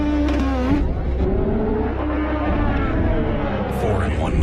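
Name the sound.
IndyCar race car engine, in-car camera, Iowa Speedway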